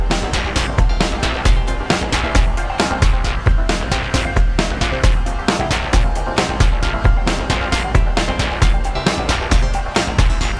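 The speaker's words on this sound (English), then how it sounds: "we were on the Subharmonicon, and we just kind of built like a weird kind of polyrhythm melody" Moog Subharmonicon synthesizer playing a weird polyrhythmic melody, a dense loop of steady, interlocking percussive pulses with a thick low end, loud and continuous throughout with no talking.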